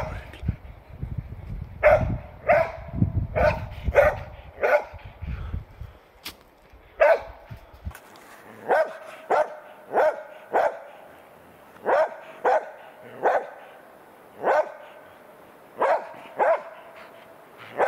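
A marten-hunting dog barks repeatedly at a spruce tree holding a squirrel's nest, sharp, evenly spaced bursts, fairly close, with rustling and footsteps underneath at first, then barking alone.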